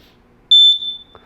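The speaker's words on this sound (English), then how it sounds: "Now they both beeped." An X-Sense wireless interconnected smoke detector gives a single short, loud, high electronic beep during pairing, then a fainter second chirp follows in a quiet room.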